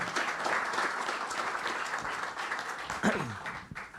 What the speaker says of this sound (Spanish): Muy, muy fuertes y cariñosas palmas.